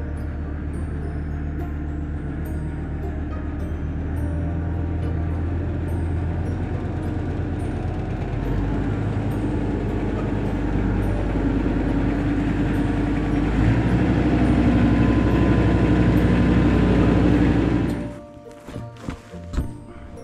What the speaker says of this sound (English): get this tractor out of the barn.